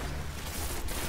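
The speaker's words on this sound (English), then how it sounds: "This pulse rifle is actually really good because it has a fast fire rate" Fast-firing pulse rifle bursts in the shooter game Destiny, a dense, loud, continuous rattle of shots lasting about a second.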